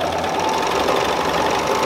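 A sewing machine stitches fabric for a silverware sleeve placemat, running continuously with a close, steady mechanical whir and rapid needle chatter, no talking.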